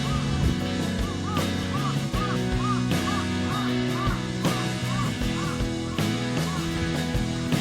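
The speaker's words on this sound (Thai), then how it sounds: "เสียงอีการ้องเต็มเลย" Many birds call over a dense, busy background, with repeated harsh cawing cries of crows overlapping throughout, outdoors in snow in Hakodate, Hokkaido.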